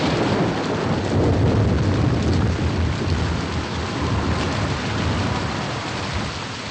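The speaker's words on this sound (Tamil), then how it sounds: "ரொம்ப மழை பெய்யுது." Heavy rain falls in a dense, constant roar, loud and close, with a low rumble underneath throughout and no voices.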